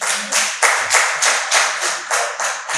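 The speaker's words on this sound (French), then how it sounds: "Il faut toujours applaudir" Hands clap in a steady rhythm of about ten to eleven sharp, evenly spaced claps, close and fairly loud, with a faint low murmur underneath.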